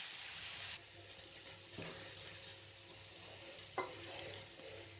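Beetroot and garlic sizzling gently in a pan with salt and turmeric, a soft steady fry broken by a couple of sharp stirring scrapes, close and quiet.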